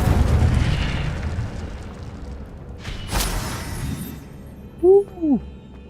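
A fire spell detonates in a Harry Potter video game: a sharp, loud burst after a stretch of low rumbling effects, followed by a couple of short tonal chimes near the end.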